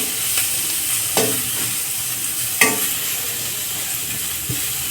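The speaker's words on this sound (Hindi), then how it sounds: "गाजर, शिमला, पत्ता गोभी, सब्जियों को फ्राई कर लेंगे।" Carrot, capsicum and cabbage frying over a high flame, a constant close sizzle broken by a few sharp clanks and scrapes of a spatula tossing the vegetables, with no voices.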